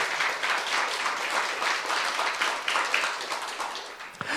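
A church congregation at a youth service breaks into sustained applause: a dense, steady wash of many hands clapping together, holding at an even level throughout and ending with one sharper crack near the end.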